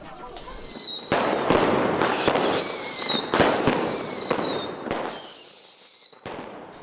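A fireworks display near a migration site, with a dense run of loud crackling bursts and sharp pops one after another, several whistling shells streaking upward, and no voices over it.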